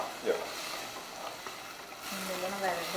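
Dried chillies and curry leaves frying in hot oil, giving a steady crackling sizzle with a few stirring knocks, close and fairly soft.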